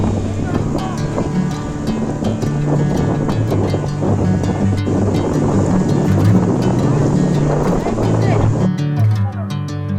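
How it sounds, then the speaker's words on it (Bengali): Strong wind at Guliyakhali sea beach buffets the microphone with a loud continuous roar and rough gusts throughout, the sound of surf mixed in beneath it. "অসম্ভব বাতাস এই গুলিয়াখালী সি বিচে"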